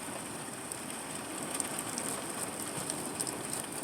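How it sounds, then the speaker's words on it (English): Heavy rain during a thunderstorm, heard from indoors, makes a dense, even hiss of rain on surfaces that continues without a break. There are no voices, and the rain stays at a moderate, constant level. "It looks like it's raining out there again."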